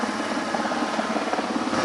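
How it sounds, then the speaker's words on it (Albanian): An air force Cougar helicopter lands on a ship during a military demonstration, its rotor chopping in a rapid, steady pulse under a dense, loud engine roar. "Ky është një nga helikopterët Cougar të forcave ajrore, i cili po ulet tek anija Lisus"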